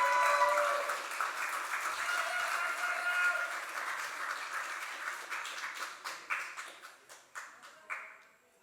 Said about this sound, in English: Clap her up to the stage, folks.